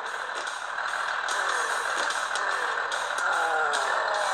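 School bus engine droning steadily in the driving game Earn to Die, with a constant mechanical hum and scattered clunks and impacts over it; no talking.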